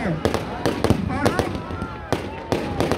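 Fireworks at a Dussehra Ravan Dahan festival in Rohtak, Haryana: a rapid series of sharp crackling bangs and pops bursting overhead, loud and irregular, with crowd noise and voices underneath.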